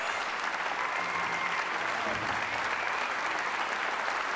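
Steady, sustained audience applause fills the room after the women's final of the 2007 Midwest Classic billiards tournament in Oklahoma, a dense, even wash of clapping with no break.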